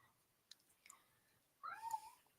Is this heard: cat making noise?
yes